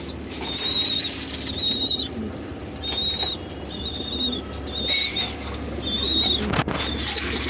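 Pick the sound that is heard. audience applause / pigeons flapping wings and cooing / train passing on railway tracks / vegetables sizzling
pigeons flapping wings and cooing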